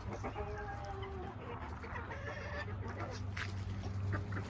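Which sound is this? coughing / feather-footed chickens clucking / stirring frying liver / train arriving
feather-footed chickens clucking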